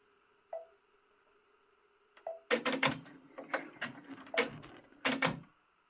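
A Brother PR1055X multi-needle embroidery machine stitches an appliqué monogram: a couple of faint beeps, then bursts of rapid mechanical needle chatter that start and stop in short runs, close by.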